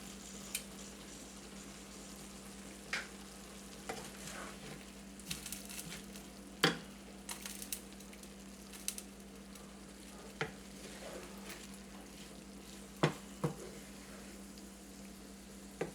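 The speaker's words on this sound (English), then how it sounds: "Look at those nice big chunks of onion and stir it in" Big chunks of onion stirred into chili frying in a pot, a steady low sizzle broken by sparse spoon scrapes and clicks, fairly faint and close, with no talking.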